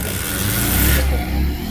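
A Bajaj Pulsar 125 motorcycle with a weak, run-down battery starts up, its mid-pitched engine idling and revving steadily and close by for a couple of seconds.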